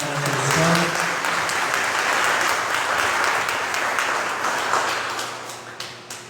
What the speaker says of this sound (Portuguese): Uma salva de palmas, Nossa Senhora da Conceição.